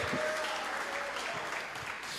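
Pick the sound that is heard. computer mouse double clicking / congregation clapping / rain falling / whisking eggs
congregation clapping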